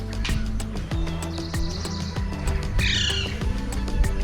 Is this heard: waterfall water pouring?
no